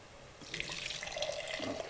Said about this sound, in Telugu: ఇలా వాటర్ పోసేసి బాగా కలిపేసేసి ఇందులో పోసేయాలి